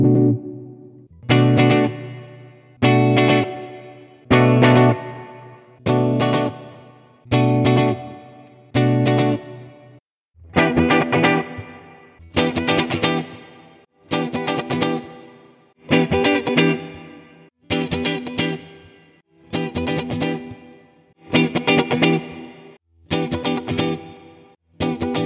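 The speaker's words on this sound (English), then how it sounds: "I'll now go through the pickup sounds with a clean tone." Electric SG-style guitar with three pickups and a Bigsby, played clean in a run of strummed chords and ringing phrases that cycle through the pickup positions, loud and close, with short gaps between passages and no talking.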